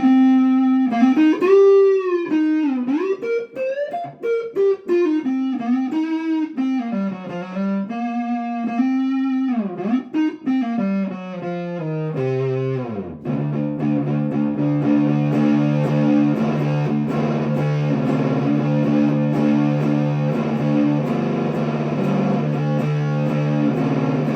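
A Gretsch Electromatic G2504 electric guitar plays a bending, sliding lead line, then shifts into thick, sustained chords drenched in heavy distortion and fuzz.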